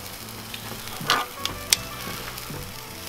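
A Denver steak sizzles directly over the heat on a Weber kettle charcoal grill, a steady close hiss of fat and juices with a few small pops and crackles, no voices.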